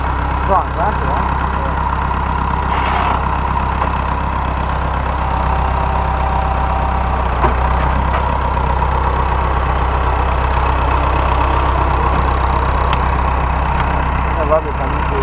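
A tractor engine runs steadily while pulling a recreational vehicle stuck in mud, a continuous low mechanical drone with no change in pace, with people talking nearby.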